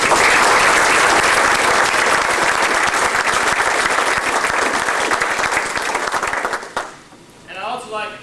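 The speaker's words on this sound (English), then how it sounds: "And I think they all deserve a big round of applause" Applause from a banquet audience honoring a high school baseball coaching staff, steady dense clapping filling about seven seconds before dropping off abruptly, with a voice starting up just after.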